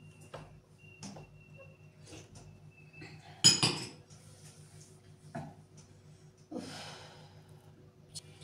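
Dishes and glasses clink and clatter as they are loaded into a dishwasher in a home kitchen, with one sharp louder clash midway among scattered light knocks and taps, close and otherwise quiet.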